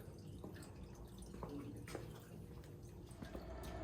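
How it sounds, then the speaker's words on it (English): Oil drains from a Showa 49mm motorcycle fork cartridge laid down to empty, giving faint, irregular drips and small liquid taps over a low background hiss. "lay down this cartridge in here and let the oil drain out for a little bit"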